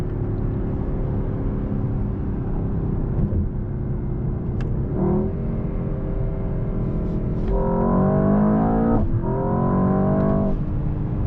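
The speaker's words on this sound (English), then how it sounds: "Also the sound which you get with the exhaust, of course, is amazing." Mercedes-AMG S63 sedan with its V8 exhaust accelerating hard, a loud steady engine roar rising through the gears with clear pitch sweeps at each pull, heard from the driver's seat with no talking.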